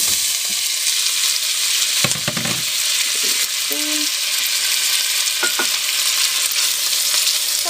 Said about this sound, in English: First I'll brown the beef.